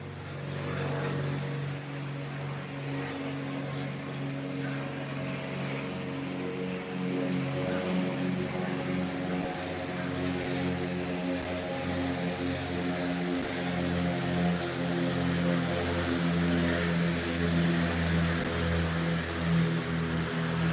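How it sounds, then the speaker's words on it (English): An airplane drones overhead, a steady low engine hum with stacked tonal harmonics holding for about twenty seconds, fairly loud and continuous, with no speech. "Another plane. Another one."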